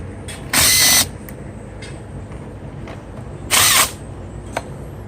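A 10 millimeter ratchet loosens the battery terminal on a Chevy Malibu in two short bursts of rapid clicking a few seconds apart, with faint lighter clicks in between.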